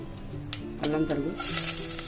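Chopped ginger goes into hot tempering oil with mustard seeds, dried red chillies, cumin and fenugreek for Gujarati kadhi, giving a short burst of sizzling that swells toward the end, with some stirring and a voice nearby.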